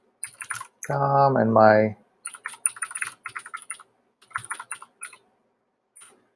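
Computer keyboard keys clicking in short bursts as an email address is typed for a sign-in during a web exploit demonstration, with a person speaking briefly between the bursts.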